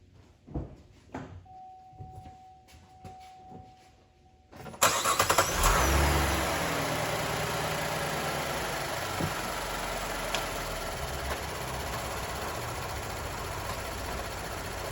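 Car engine cranking and catching after a few quiet clicks and handling noises, then settling into a steady, even idle that runs continuously at close range, no talking.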